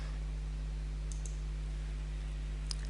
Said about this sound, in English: click the Add button